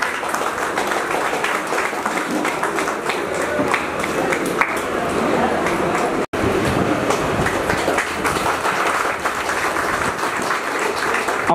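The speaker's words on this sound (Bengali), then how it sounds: "জোরে হাততালি হোক।" Audience applause at a meeting, a dense, steady wash of clapping from many hands that lasts throughout, with one brief cut partway through.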